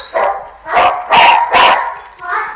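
A dog barks close and loud in a series of five sharp barks with short gaps, the last one softer, standing alone without talk.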